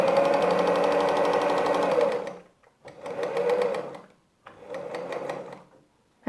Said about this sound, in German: Und wir nähen einmal diese äußere Bahn zusammen.